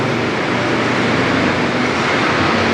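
A modified Honda Civic race car with a loud, lightened exhaust roars steadily, a dense broadband drone that stays constant and close throughout, with no voices over it.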